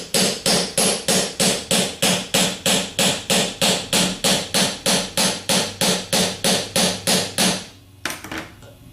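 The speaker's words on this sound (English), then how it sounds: "As you're tapping the bearing on, it should only be contacting the inner race." A bearing being tapped onto an alternator rotor shaft during a rebuild: a steady run of about thirty loud, evenly spaced metallic hammer blows, close up, ending abruptly with a brief clatter.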